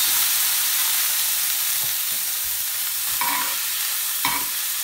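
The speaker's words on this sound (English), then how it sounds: "Turn off the heat. And add another butter." Seabass fillet basting in butter with lemon juice in a hot pan after the heat is turned off, a steady close broadband sizzle with brief spoon scrapes and clinks, no talk.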